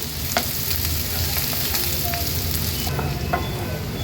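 Onion frying in a pan over a low flame gives a dense, even sizzle close up, with a few faint taps of stirring and no speech.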